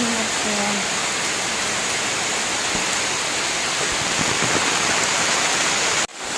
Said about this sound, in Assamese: এনেকৈ যে বৰষুণ দিলে কিমান ভাল লাগে